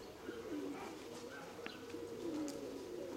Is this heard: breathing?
no